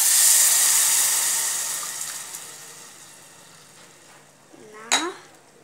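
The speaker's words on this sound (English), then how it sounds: "And now we'll put blended spinach" Blended spinach poured into a hot pan for spinach soup gives a broad hissing sizzle that fades steadily over several seconds, ending in a short clatter of a utensil against the pan.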